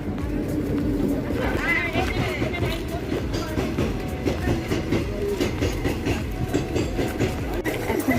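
A train pulls into a station with a continuous rumble and rhythmic clickety-clack of wheels on rails, while voices talk nearby and pigeons coo in the background.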